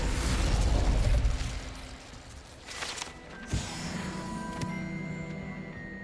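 Incendio fire spell cast in the Hogwarts Legacy video game, a loud whooshing burst of flame with crackling roar that fades, followed by a sharp pop and a lingering ringing tone.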